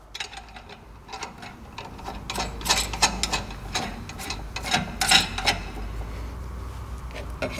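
Nuts and washers are threaded and fastened onto bolts of a small safety valve test bench: light metallic clicks and ratcheting taps in quick irregular bursts, close but fairly quiet, with no speech.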